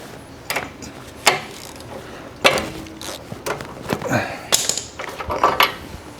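A ratchet with a 13/16 socket on a long extension works loose the spark plug of a Troy-Bilt snowblower. Sharp clicking bursts and clanks come close by and irregularly, with some handling and shuffling noise between them.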